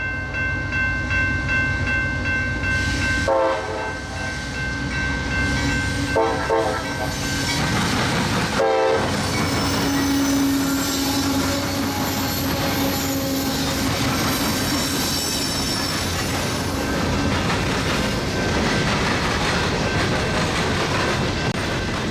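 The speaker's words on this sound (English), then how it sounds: "it is an empty coal train out of the Toledo docks for Princeton, Indiana" A long empty coal freight train rumbles steadily past at close range in Fostoria, Ohio, with wheels squealing and a loud horn blast partway through.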